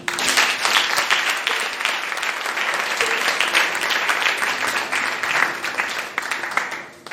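A church congregation at a Sunday service bursts into sustained applause, a dense, even wash of many hands clapping that holds steady and then tapers off near the end.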